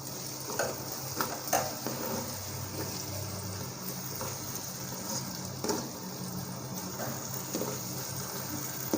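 Spring onions stir-fried into Chinese fried rice in a hot pan, a steady soft sizzle with faint scraping and clinking of stirring, fairly quiet and without talk.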